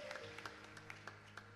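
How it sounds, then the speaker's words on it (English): A church congregation at a Sunday service claps hands in praise. The claps come as sparse, soft, irregular hits over a low background hum, faint and fairly distant, with no clear voices. "Can you clap hands and give God praise?"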